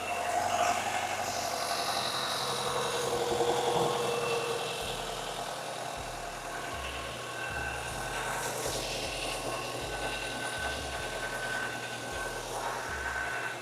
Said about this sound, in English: let the engine get hot